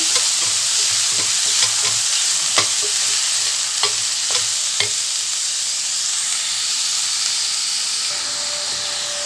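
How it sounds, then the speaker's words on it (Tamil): Vermicelli biryani ingredients sautéing in a hot pan give a loud, steady sizzle and hiss, broken by several sharp scrapes and taps of a stirring spoon, with no voices. "இது வதங்கி வந்துட்டுருக்குது நல்லா வதக்கணும்"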